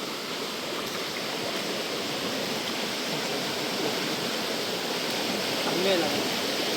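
A forest stream on a farm flows steadily, a close, even rush of water with no breaks.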